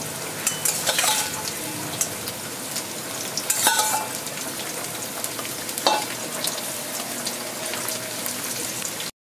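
Fish frying in hot oil in a pan, with a continuous close sizzle and bursts of louder spattering as pieces are stirred or turned.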